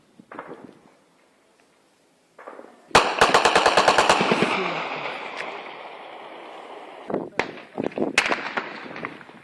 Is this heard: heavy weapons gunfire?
yes